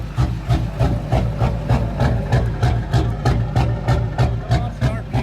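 LB7 Duramax diesel truck engine with a lope tune idling up close, a heavy low rumble pulsing in a steady, loping rhythm throughout.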